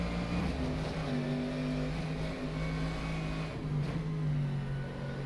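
Race car engine droning steadily on the Nordschleife in rFactor 2, a sustained loud note with shifting pitch through corners, constant with no gaps and no voices.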